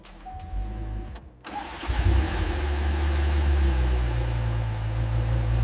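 A 2009 Ferrari 458 Italia engine cranks briefly, then catches and fires up, settling into a loud, steady, close-up rumble with slight revving swells and no voices.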